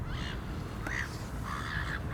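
Crows cawing about twenty yards behind the bank of a carp fishing lake, three or four harsh calls spaced through the clip over a steady, noisy outdoor background.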